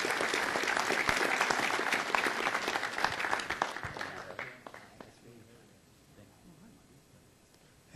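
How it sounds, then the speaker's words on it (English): Applause from the audience at a city council meeting, loud and dense for about four seconds before tapering to a quiet murmur of room noise. "Give him a nice round of applause."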